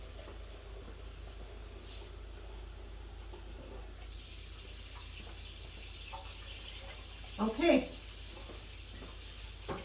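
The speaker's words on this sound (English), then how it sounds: "So now, turn the water off." Tap water runs in a steady hiss in a home kitchen during red chile menudo cooking. A brief voice and a short clatter of utensils come near the end.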